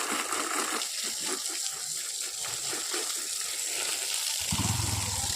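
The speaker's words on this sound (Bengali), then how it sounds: "এখানে আগে জল দিয়ে জায়গা ধুয়ে দিতে হবে" Water poured indoors across a floor to rinse a spot where a puja was held, heard as a steady gushing splash that swells louder near the end, with no voices.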